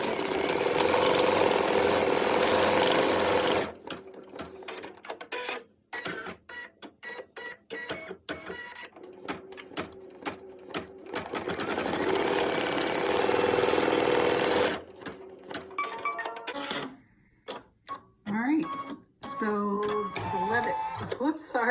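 Embroidery machine stitching a Christmas card design in white thread, a rapid mechanical chatter running in long bursts with short pauses between, close and loud, with someone talking briefly between runs.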